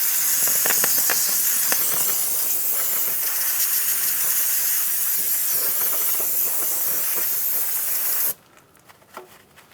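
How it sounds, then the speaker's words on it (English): Brake cleaner sprayed in a long, steady hiss onto the front brake hose area of a 2007-2015 Mazda CX-9, continuous and close for about eight seconds before cutting off abruptly into near silence. "we're going to come back with some brake clean and just squirt that area"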